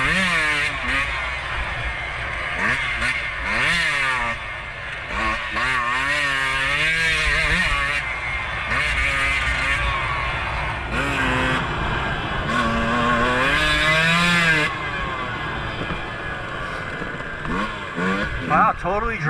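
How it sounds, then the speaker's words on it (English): A two-stroke dirt bike screams on the pipe at wide-open throttle along dry forest singletrack, its loud, close engine climbing and falling in repeated rising revs for the whole stretch. "You're going to be hearing a lot of that on the pipe two-stroke singing throughout this video."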